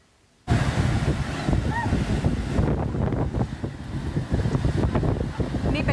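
Fast-flowing floodwater roars down a river in Libya after two dams burst. A dense, continuous rush of churning water fills the clip, buffeted by wind, after a brief quiet start.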